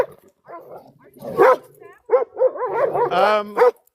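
Several dogs bark and yip on an outdoor walk, with short sharp barks and a whine in bursts close by, mixed with people talking.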